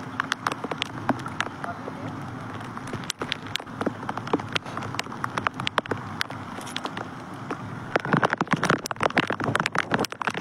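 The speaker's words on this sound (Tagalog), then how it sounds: "Nandiyan na yung ulan niya talaga." Rain falling outdoors, not yet very heavy, a steady patter with scattered louder drop impacts that thicken toward the end.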